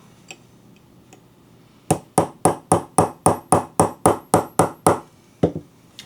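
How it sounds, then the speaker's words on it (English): A hammer strikes a steel punch to drive a pin out of a Sjogren shotgun bolt: about a dozen sharp, ringing metallic taps in a steady, quick rhythm, then a pause and two more, close and loud with no talk. "We'll get ourselves a punch, and what we'll do is then drive this pin"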